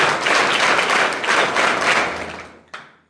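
Audience at a school event applauding in honour of the school's founder, a dense burst of clapping that fades out over a few seconds, ending with a single thump.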